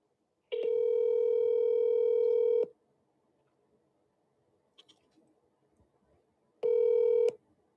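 Phone call being placed: a long steady electronic tone, a few faint clicks in the quiet gap, then a second shorter tone, close and clear with no talk.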